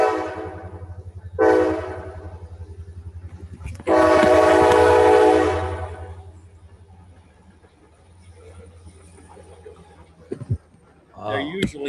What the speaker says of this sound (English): That's a train going by my house.